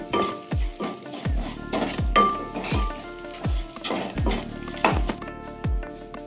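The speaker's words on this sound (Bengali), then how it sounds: "এরপর আমরা এর মধ্যে নুন হলুদ দিয়ে আবার ভালো করে আমরা এটিকে মিশিয়ে রান্না করে নেব" A fish head with salt and turmeric being stirred in a frying pan, with a steady sizzle under repeated scraping strokes of a spatula against the metal, about two strokes per second, close and clear.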